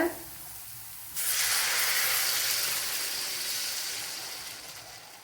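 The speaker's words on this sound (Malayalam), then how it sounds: "ഇനി അരച്ചു വെച്ചിരിക്കുന്ന മാവിനെ ഒഴിച്ചു കൊടുക്കുക" Ground rice batter poured into a hot pan for a Kerala-style breakfast sets off a sudden close sizzle, a strong, steady hiss that slowly fades over a few seconds.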